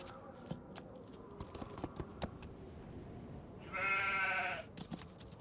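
A sheep in the Nancy Drew adventure game The Haunting of Castle Malloy gives one short bleat partway through, set among soft clicks and taps in an otherwise quiet scene.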